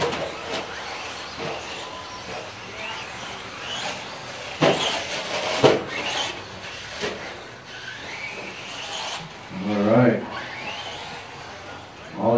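Electric RC stadium trucks race around an outdoor track, producing thin, buzzing motor whines that swell and fade as they pass, while an announcer talks over them almost continuously.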